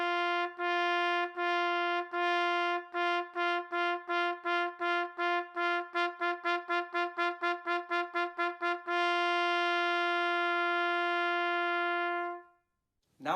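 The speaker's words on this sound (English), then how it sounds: "we'll start on a G in the staff and articulate quarter notes, followed by eighth notes and then eighth note triplets" A trumpet articulates a repeated G in the staff, first as quarter notes, then faster eighth notes and eighth-note triplets, ending on a long held tone; clean and alone.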